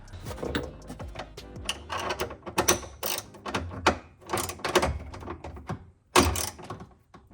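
A torque wrench tightening a bolt on a Cusco rear strut bar on an Acura RSX Type S, close irregular ratcheting clicks and metallic knocks with a louder clunk near the end.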